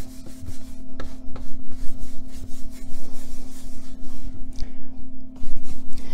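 Steady rubbing and rasping as Dixie Belle Best Dry Wax in black is worked by hand into a painted cabinet top in small sections, a close, continuous scrubbing rhythm with a low steady hum beneath.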